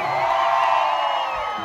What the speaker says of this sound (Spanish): a ver que se escuche el grito mexicano